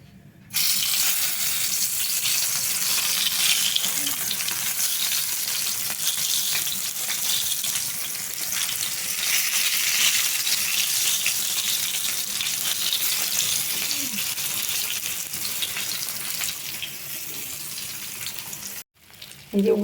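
Eggplant slices rubbed with salt, turmeric and a little sugar fry in hot oil, a continuous loud hiss of sizzling that holds steady for most of the stretch before stopping abruptly near the end.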